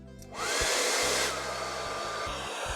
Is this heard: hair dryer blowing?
yes